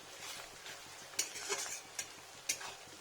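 Chillies fry in oil in a pan for a chicken kosa, a soft steady sizzle with a few sharp scraping clicks of stirring, fairly quiet and close.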